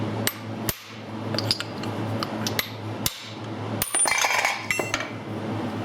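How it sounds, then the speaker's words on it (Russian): Sharp metallic taps of a small hammer on a buggy's rear suspension part, several irregular strikes spread across the clip over a steady low hum, fairly close. "Берем молоточек."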